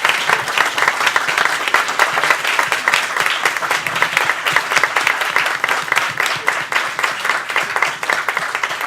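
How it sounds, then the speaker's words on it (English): A sustained round of audience applause fills a talk on the Mondragon Cooperatives, dense steady clapping from a crowd holding at a loud, even level throughout. "Let's have a big round of applause for..."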